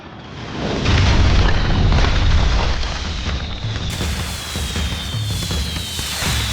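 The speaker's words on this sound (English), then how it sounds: "Fireworks." Fireworks bursting in the video game Max Payne 3, a loud rumbling boom swelling near the start and holding as a dense crackling wash of blasts with game ambience underneath.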